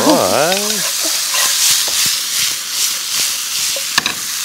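Seasoned minced meat stir-frying in a pan with plenty of minced garlic: a steady, loud sizzle with stirring and scraping noises throughout and a brief vocal sound at the start.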